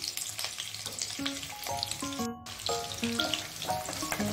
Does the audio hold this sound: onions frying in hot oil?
yes